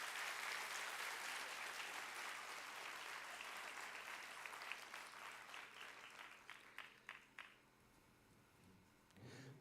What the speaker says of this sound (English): Can we have a vigorous round of applause for our first speaker?